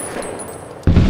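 A single gunshot in Medal of Honor Warfighter, one abrupt loud blast that cuts in after a quiet hiss and rings on briefly.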